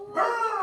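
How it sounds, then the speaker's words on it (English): A pet dog barks in a home while someone cuts paper pieces, a short close bark over a brief spoken word. "That's just my dog."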